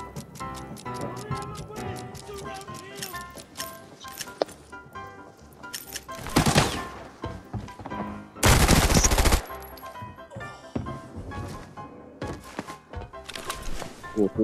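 Rapid bursts of video game gunfire crackle in quick, uneven volleys, with one loud sustained burst partway through, over a busy battle royale game soundscape.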